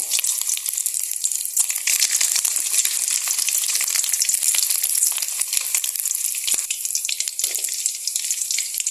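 Smoked tinapa fish fries in a pan with steady, loud, crackling sizzle throughout, a dense continuous hiss that holds at close range without pause or voices.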